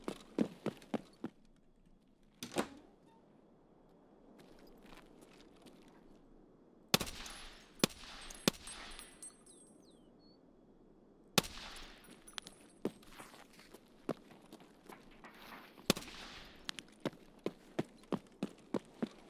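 Suppressed gunfire from a first-person shooter, with sharp bursts and single shots scattered in clusters among quieter stretches of in-game ambience.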